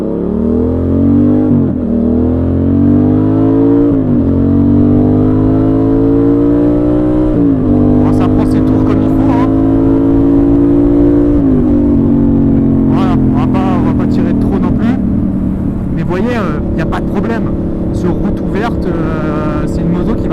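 A Yamaha XSR700 motorcycle accelerates hard on a straight road, its loud engine note climbing steadily through several gears with brief dips at each shift, close and continuous, while wind rushes and a person talks over it near the end.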